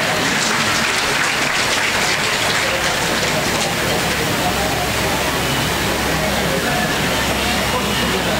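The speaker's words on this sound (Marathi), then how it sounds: "शामरावजीसाठी तरी टाळ्या वाजवा ना" Audience at a public ceremony honouring Shamraoji, with an MLA present, claps continuously and loudly for the whole stretch, a dense steady roar of hands with voices mixed in.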